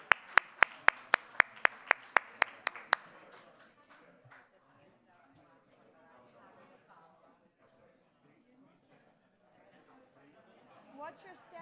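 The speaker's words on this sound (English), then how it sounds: "a round of applause for wealth of information here" Conference audience at a leadership stage event applauding a panel, about a dozen sharp, evenly spaced claps leading, then a low murmur of chatter and movement as people disperse.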